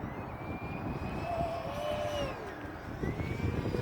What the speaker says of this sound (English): You should not be able to fly an EDF jet that slow.